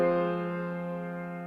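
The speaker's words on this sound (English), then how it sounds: "you have this electric piano layer that you can bring in" A sustained electric piano layer from Spitfire Audio Media Toolkit holds one rich chord that slowly fades, a short, soft, steady tone with no talking.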